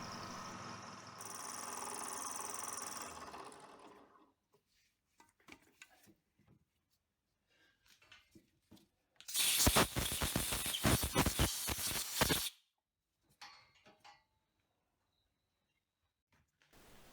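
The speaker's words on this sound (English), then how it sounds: "So now I'm just side milling from hole to hole." In a shed workshop, a milling machine side-mills a rectangular hole between drilled holes in a metal panel hammer head. Scattered clicks and quiet gaps surround a harsh, chattering burst of cutting lasting a few seconds, with a steadier whir at the start.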